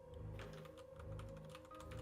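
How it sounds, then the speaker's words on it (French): Quick, soft keystrokes tap on a computer keyboard over a steady low electronic hum, faint and brief with no voices. "Les petits bruits de clavier"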